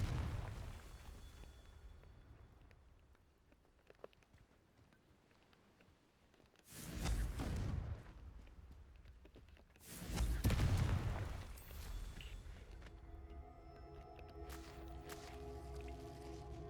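Confringo fire spells from Hogwarts Legacy burst in two loud, booming explosions a few seconds apart, each with a broad crackling roar, set against low rumbling game ambience and a later sustained tonal hum.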